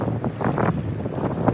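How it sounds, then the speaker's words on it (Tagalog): Steady wind buffets the microphone at a seaside beach, a continuous low rushing roar with gusty swells and no voices, close and fairly loud throughout. "Medyo mahangin siya"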